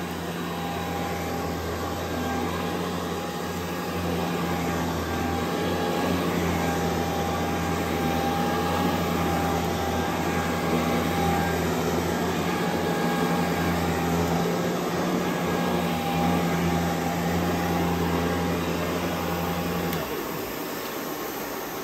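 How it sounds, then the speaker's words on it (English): A Riccar Prima Tandem Air canister vacuum runs steadily on carpet, a loud, continuous motor whine and airflow roar that holds level throughout and drops away right at the end. "this thing does a very, very, very good job vacuuming the carpet in general"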